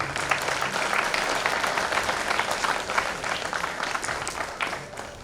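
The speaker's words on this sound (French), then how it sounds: "Vous pouvez m'aider à acclamer pour les éducatrices" An audience at a certificate ceremony applauds the educators with sustained, dense clapping from many hands, steady and fairly close throughout, fading slightly at the end.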